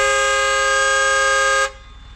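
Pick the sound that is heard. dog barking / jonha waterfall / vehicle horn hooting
vehicle horn hooting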